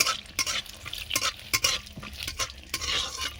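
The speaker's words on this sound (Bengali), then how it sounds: "প্রথমে সাদা তেল দিয়ে দেবো কড়াতে, অল্প করে বাদামগুলো তেলে ভেজে নেব" Peanuts frying in white oil in a wok: a soft, steady sizzle broken by bursts of scraping and stirring, close and fairly quiet, with no voices.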